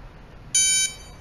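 A single short, high electronic beep sounds from an Eproer RFID locker lock's touch panel, clear and close against a quiet background.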